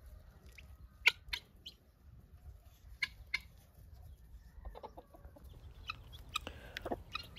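Soft, scattered clucks from a mother hen and peeping chirps from her five chicks, quiet and close, coming in short irregular bursts over faint background noise.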